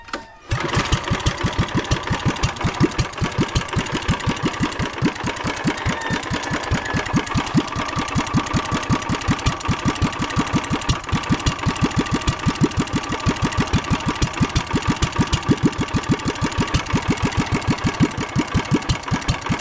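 A mid-sized engine runs steadily at idle with a fast, even, close-up chugging pulse that continues alone for the whole stretch after a brief start.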